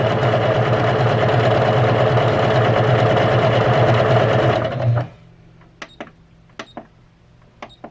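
A Juki HZL-K85 sewing machine stitches at maximum stitch length and width, a loud steady mechanical whirr lasting about five seconds, then stopping and followed by a few sharp beeps.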